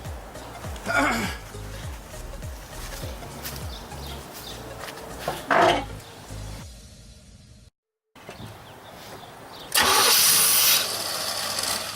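A 1989 Formula's engine, started after sitting three years, cranks in repeated stuttering turns, then catches and roars up loudly near the end, with a brief cut to silence before it.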